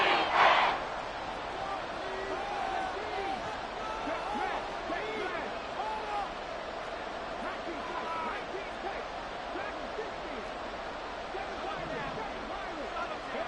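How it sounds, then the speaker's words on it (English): Stadium crowd at Arrowhead roaring during a Madden football video game: a dense, steady wash of cheering that swells briefly at the very start, then holds at an even level for the whole stretch. "The Arrowhead crowd in full roar."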